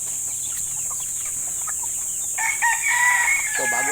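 Farmyard chickens clucking in short bursts, then a rooster crows loudly near the end, over a steady high-pitched insect-like hiss in the background.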